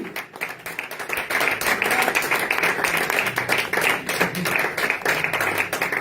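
A church congregation claps in praise of Jesus, dense and sustained applause with a rhythmic pulse, fairly close and carrying on without pause.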